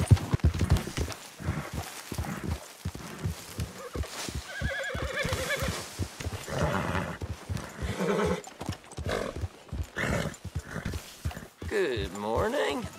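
Horse hooves clop at a gallop in Red Dead Redemption 2, with a neigh partway through and a rider urging the horse on, mixed under game dialogue and other voices.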